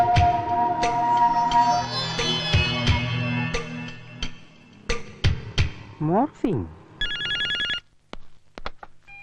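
A telephone bell rings during a Malayalam comedy scene, with bursts of ringing between spoken lines, sharp knocks and clatter, and a short electronic ring near the end.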